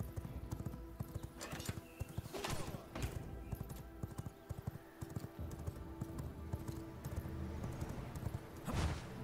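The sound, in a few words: horse hooves clip-clopping in the video game V Rising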